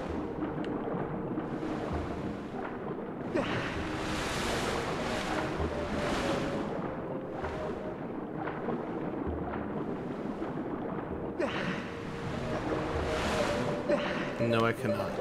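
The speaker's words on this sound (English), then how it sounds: "Can I swim up the waterfall?" A waterfall in The Legend of Zelda: Skyward Sword roars as a broad, rushing wash of water that swells and eases over the stretch, with a person talking over it.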